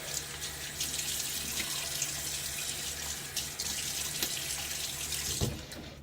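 Tap water runs steadily into a sink for wetting the face during a wet shave, a continuous close splashing flow lasting the whole stretch with no talk.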